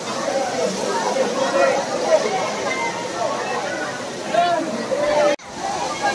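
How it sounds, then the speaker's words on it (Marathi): Bhivpuri waterfall in Maharashtra rushing steadily as a crowd of visitors chatters and calls out nearby; someone talks over the constant water roar, which cuts out briefly near the end. "माझ्या मागे आहे हा वॉटरफॉल देवपुरी."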